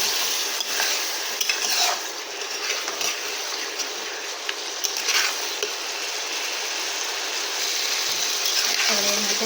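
A small amount of water poured into a simmering drumstick-and-fish curry gives a steady, loud sizzle and bubbling that lasts throughout, with faint stirring.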